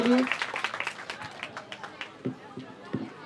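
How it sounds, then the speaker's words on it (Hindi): Classroom audience at a Teacher's Day celebration clapping for their teacher, a burst of applause that thins into scattered claps amid chatter. "तो मैं चाहूंगा कि एक बार जोरदार और ताली बजा दे सर के लिए।"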